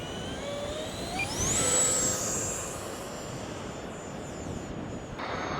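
E-Flite Viper 30mm RC model jet with flaperons and spoilers flying overhead on a windy day, its high whining ducted fan swelling as it passes close, then fading into the distance over steady wind noise.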